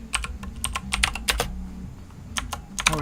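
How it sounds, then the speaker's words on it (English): Typing on a Razer computer keyboard, close crisp clacking keystrokes in quick irregular clusters with brief pauses, no speech. "The Razer keyboard strikes again."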